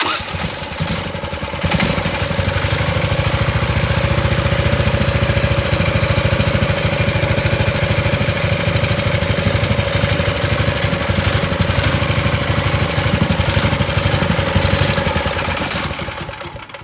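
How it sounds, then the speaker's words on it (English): A Harbor Freight 420cc engine with key start and choke cranks briefly, catches and runs, settling into a loud, steady, close chugging rumble that holds until it trails off at the end. "So I hit the choke and hit the key and that thing cranks right up."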